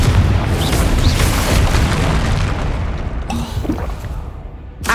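A Confringo fire spell from Hogwarts Legacy detonates in a heavy, rolling boom, with a sustained low rumble that fills the scene before tapering off near the end.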